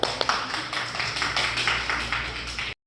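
An audience of parents and teachers claps together at a positive-culture dissemination session; brisk, dense clapping with a few sharper claps at the start, holding steady before cutting off abruptly.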